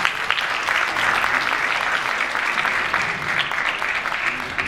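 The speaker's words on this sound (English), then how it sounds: "Give them a round of applause." Parents and families applaud the finishers at an MLK oratory competition, a loud, sustained round of many hands clapping with crisp individual claps audible, holding steady for several seconds.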